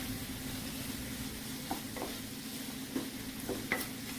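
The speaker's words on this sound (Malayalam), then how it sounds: "അരിഞ്ഞു വെച്ച് സവാള ഇട്ട് കൊടുക്കാം. സവാള നന്നായി വെന്ത് വരുന്നവരെ നമുക്കൊന്ന് വഴറ്റിയെടുക്കാം" Sliced onions with fennel and curry leaves sautéing in a pan for a fish roast, a faint, steady sizzle with a few soft stirring scrapes near the end, no voices.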